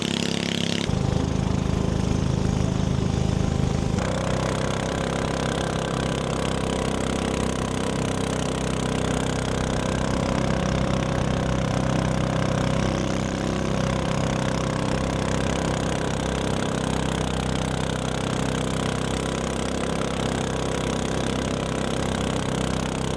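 A small motor on a fishing boat on the lower Mekong in Vietnam starts up and settles into a steady, loud running drone that continues unbroken for the whole stretch, close by, with no talking.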